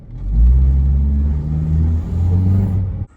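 A Toyota engine with a bad rear engine mount runs and revs briefly, a loud, deep low rumble that swells, holds with a throbbing drone, then cuts off abruptly near the end.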